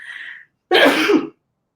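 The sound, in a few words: sneeze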